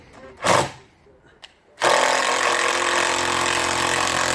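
A chainsaw fitted with a new chain cuts back decking boards on a circular deck. A couple of short bursts come first, then the saw roars loud and steady for the rest of the clip.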